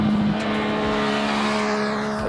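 A 2014 MV Agusta F3 800 three-cylinder motorcycle roars near and loud, intake rumble and high exhaust whine holding a steady climbing pitch as it runs hard, with no voices.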